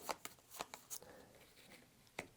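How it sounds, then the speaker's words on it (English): Playing cards for an Escape from New York tabletop game being shuffled as a small stack, heard as a few soft, quick riffling bursts spread across a couple of seconds, with no talking. "then we're going to shuffle the remaining 3 cards"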